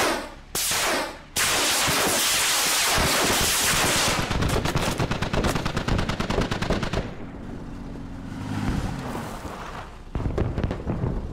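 Squad battlefield gunfire: loud, sustained automatic bursts and heavy blasts that fill the scene, with rapid rattling volleys continuing and a brief lull before more shooting near the end.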